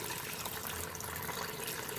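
Water pours steadily into a cooking pot of beef paya with its gravy, a continuous close splashing gush that fills the whole moment without pause.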